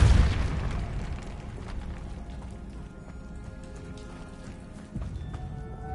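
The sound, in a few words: Depulso spell effect in Hogwarts Legacy video game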